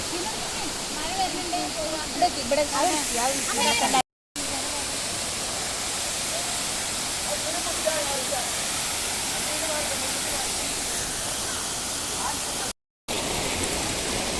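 Palur Kotta waterfall roaring as a broad, steady rush of water with a constant hiss, while people talk over it throughout and a couple of brief dropouts interrupt the sound.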